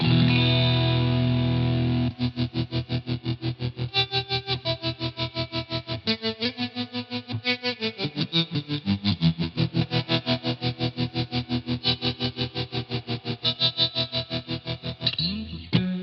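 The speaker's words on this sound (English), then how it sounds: "I was just playing around with a fuzz trem the other day, so here's just another sound of that" Guitar through a fuzz tremolo pedal, its distorted chords chopped into a fast, even pulsing throb that runs steadily for the whole passage, loud and close.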